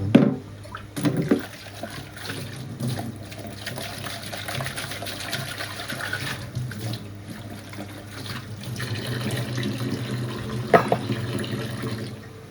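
Food is rinsed under running water in a home kitchen, a steady splashing gush that continues for the whole stretch with a few louder clatters at the start and near the end.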